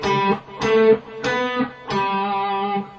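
Electric lead guitar playing bar 26 of Bach's Cello Suite No. 1 Prelude, four distinctly picked notes with sustained ringing overtones, close and clear with no talking.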